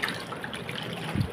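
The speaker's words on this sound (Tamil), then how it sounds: "இந்த தண்ணியை ஊற்றி" About two litres of water poured out to rinse freshly picked herbs for a homemade herbal hair tonic, giving a soft, steady trickle that is quiet and brief with no voices.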